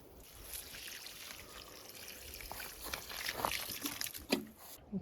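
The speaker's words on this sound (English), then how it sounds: "This is actually the first time I have to water the plants." Garden plants being watered in a dry vegetable bed of peppers and herbs, a soft steady trickle and splash of water running throughout, with faint rustling and a slightly louder burst near the end.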